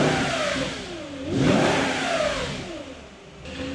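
Audi S4 engine revving up and settling back, a steady mid-pitched drone that rises in one swell and eases off, heard from nearby with no talk.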